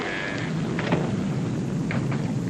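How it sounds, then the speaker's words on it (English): Steady rain falling outdoors with soft rumbles of thunder, a constant wash of sound with a few brief swells, no voices. "The rain that's falling down"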